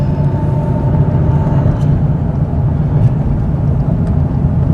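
A 1991 GM 3.8 engine running steadily, a low, even rumble close by with a faint higher whine above it, no voices.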